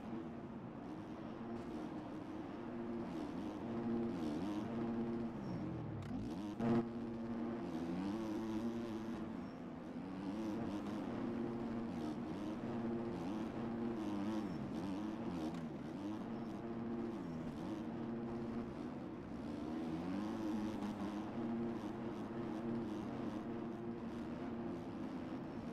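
Dirt bike engines, KTMs and a Husqvarna, droning and revving continuously through a Supercross race in MX Bikes, a dense pack of motors rising and falling with shifts and throttle changes.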